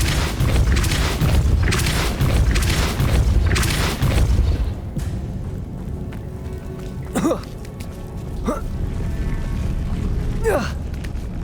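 Repulsor spell blasts in the game Hogwarts Legacy arrive as a burst of heavy, rumbling booms early on, followed by quieter whooshing sweeps against a steady background hum.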